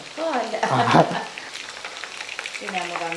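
Fish sizzling and frying in hot oil for a Kerala-style fish fry while the pieces are turned over, a steady crackle with a voice talking near the start and end.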